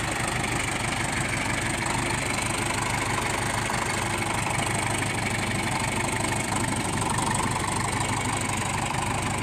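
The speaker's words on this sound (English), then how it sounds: "Nice running little tractor" A John Deere 3020 power shift diesel tractor idles steadily outdoors, a continuous low, even engine rumble with a faint rhythmic knock, heard alone at moderate level without any speech.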